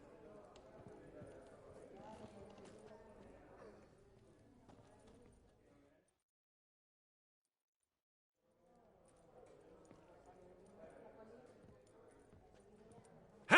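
Horse hooves clip-clop in a video game, a faint, steady run of hoofbeats under quiet talk that drops out into silence midway and then resumes.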